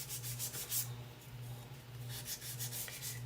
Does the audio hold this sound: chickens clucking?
no